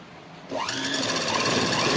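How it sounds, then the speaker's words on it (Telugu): A sewing machine starts up and runs a top stitch along a shapewear belt, giving a close, rapid mechanical whirring hum that rises in pitch as it gets up to speed and then holds steady. "ఇప్పుడు మనం పైన టాప్ స్టిచ్ కావాలనుకుంటే ఇలా వేసుకోవచ్చు చూడండి"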